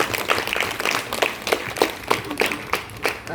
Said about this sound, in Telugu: మీకు అందరికి ఒకసారి గట్టిగా క్లాప్స్